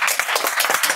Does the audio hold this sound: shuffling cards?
no